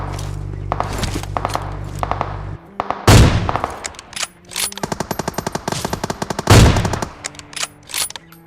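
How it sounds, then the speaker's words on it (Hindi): Gunfire in the BGMI mobile battle royale game, with a loud bursts of rapid automatic fire and heavy single shots, interspersed with mechanical clicks and in-game sounds. "मेरे को सामने की तरफ से कुछ गन साउंड आते हैं"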